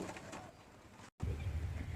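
Low, soft coos from racing pigeons sound close by, with a rolling murmur after a short gap.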